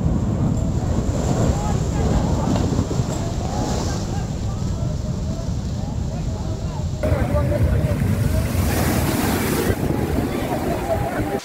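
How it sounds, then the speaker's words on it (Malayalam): A rough sea surges onto the Kozhikode coast near Azhiyur, Kuriyadi and Chombala. The roar of the water is steady and dense, and heavy wind noise buffets the microphone the whole time. "അഴിയൂർ, കുരിയാടി, ചോമ്പാല തുടങ്ങിയ പ്രദേശങ്ങളിലും കടൽക്ഷോഭം ശക്തമാണ്"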